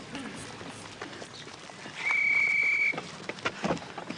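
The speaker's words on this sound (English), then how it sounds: "Well, that was the first whistle" A single steady, high-pitched referee's whistle blast lasting about a second, sounding over faint outdoor background noise with scattered rustles.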